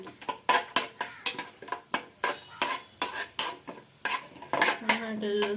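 Almonds, cashews and raisins roasting in ghee, stirred with a metal spoon that clinks and scrapes against the pan in quick rhythmic strokes over a faint sizzle, close with no talking.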